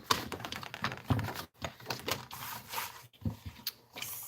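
A sheet of marsala cardstock is cut to size for a handmade card with a paper trimmer or blade, making a quiet series of close clicks, taps and scraping sounds with short pauses and no talk.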